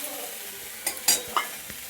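Vegetable curry frying in a pan under a soft, constant sizzle, broken by three or four sharp spatula scrapes and stirs within a couple of seconds.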